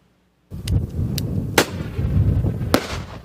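Several sharp, loud bird-scaring cannon blasts crack out one after another outdoors at Paris Orly Airport, each echoing over a low continuous rumble after a sudden start.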